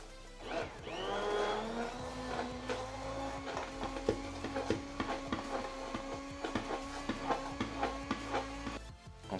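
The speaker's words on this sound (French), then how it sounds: "ensuite vous venez le mixer" A blender whirs steadily as it purées a foie gras cream velouté, its motor holding a sustained humming whine with rattling pulses and surges as the contents churn.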